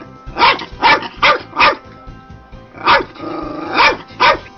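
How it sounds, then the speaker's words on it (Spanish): A Cairn terrier barks in two bursts: four sharp, evenly spaced barks, a brief pause, then three more with a low growl drawn out between them, loud and close with no talk. "Una de sus características principales es que es un perro muy ladrador"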